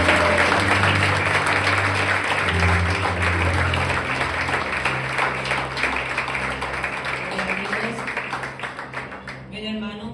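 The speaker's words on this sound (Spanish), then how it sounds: "Vamos a darle un fuerte aplauso al Espíritu Santo." A church congregation gives a long, loud round of applause, dense clapping filling the room for about nine seconds with voices mixed in, then tapering off near the end.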